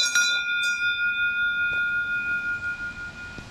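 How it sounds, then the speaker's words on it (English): A metal bell on a trail in Magome-juku, Japan, rung hard as a bear deterrent: two sharp strikes early, then a long, bright ringing tone slowly fading, with faint ambient noise beneath. "ring the bell hard against bears"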